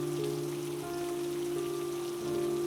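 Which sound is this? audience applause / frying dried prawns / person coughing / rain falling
rain falling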